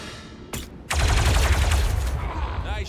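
Gunfire in the video game XCOM: a single sharp shot, then a loud sustained burst of rapid fire that rattles on for about two seconds, close and dominant.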